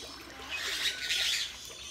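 Birds at a parrot park and garden calling loudly, with a cluster of bright, shrill chirps and squawks swelling in the middle over soft background ambience.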